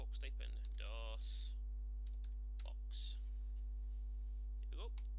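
Quiet clicks of a computer keyboard typing into a search box come in a short run of taps and a few isolated presses, faint over a steady mains hum, with a bit of speech.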